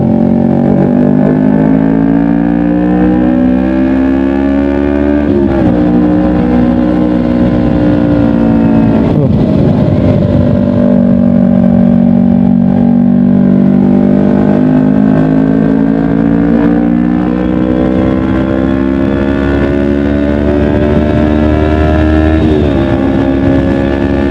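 A Kawasaki Ninja 250 FI motorcycle fitted with a Pro Liner exhaust revs loudly and steadily up close, its engine note rising and falling through several throttle pulls with no talking.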